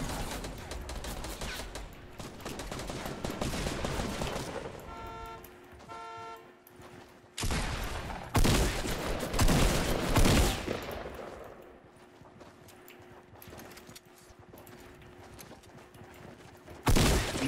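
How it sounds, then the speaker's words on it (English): Gunfire from players shooting each other in Fortnite Battle Royale: loud, rapid bursts of shots and separate sharp cracks spread across the clip, over a steady game background hum, with no voices. "They're like... shooting each other."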